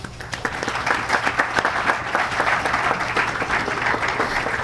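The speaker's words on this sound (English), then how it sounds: "Please applaud Woman Constable James." Dense, sustained applause from a ceremony audience for a woman constable receiving a security services recognition award, a continuous wash of many hands clapping in a large room.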